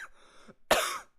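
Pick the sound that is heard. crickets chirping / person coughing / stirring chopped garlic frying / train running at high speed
person coughing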